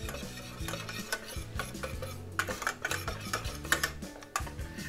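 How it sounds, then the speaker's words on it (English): Honey is stirred into a chocolate crackle mixture with a spoon, producing close, continuous rhythmic scraping and knocking against the bowl, fairly quiet and with no talking. "You just basically want to make sure that the honey is fully stirred in,"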